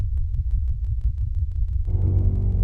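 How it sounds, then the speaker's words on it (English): Sonification of black hole relativistic jets, a deep sub-bass rumble throbbing in a rapid, steady pulse, then joined by a brighter sustained low tone near the end, with no voices. "So we got sub noise from the relativistic jets with pulsing rhythm to represent infrasound that we couldn't hear."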